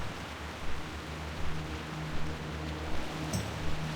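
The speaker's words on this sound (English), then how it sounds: "Wow, it's really raining hard in the wetlands." Heavy in-game rain pours in the Wetlands of World of Warcraft as a dense, steady hiss, with soft thumps recurring about every half second beneath it.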